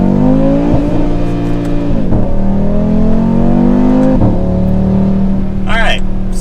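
A 2024 Audi RS3 pulls hard under load with a loud, steady engine drone, its pitch climbing, dipping at two gear changes and climbing again. Someone talks over it throughout.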